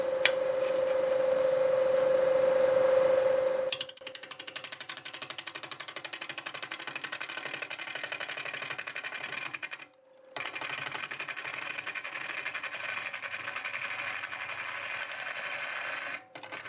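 Wood lathe spinning an apple wood bowl at 720 RPM, a steady whining hum that gives way to a rapid buzzing chatter of the tool on the wood, with two brief drops, close and continuous without speech.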